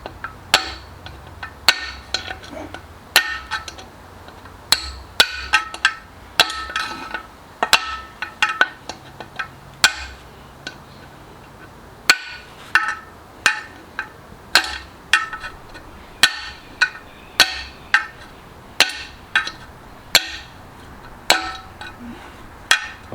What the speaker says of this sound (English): What I do is take a old half inch extension and just tap them out.